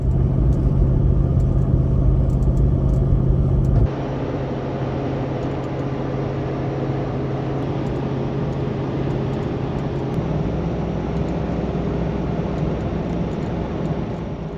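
A Jeep 392 with an AEV lift towing an M1102 trailer on the road, heard as a steady in-cabin engine drone and tire rumble with a low hum that shifts in tone partway through, continuous with no talk.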